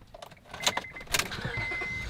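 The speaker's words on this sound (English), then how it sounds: "like any Honda, you get in, turn the key" A Honda vehicle with 105,000 miles is started with the key: keys jangle and click, then a starter whirs and the engine catches into a steady low running sound, close and moderately quiet.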